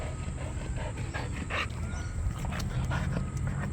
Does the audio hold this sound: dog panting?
yes